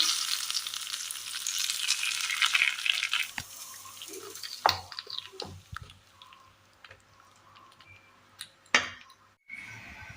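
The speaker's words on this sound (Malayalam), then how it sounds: "കടുക് താളിച്ചത് കറിയിലേക്ക് ചേർത്ത് കൊടുക്കാം" Mustard seeds tempered with green chillies and curry leaves crackle and sizzle as they are poured into a Kerala-style curry, a broad hiss at first that settles under scattered clinks and stirring knocks.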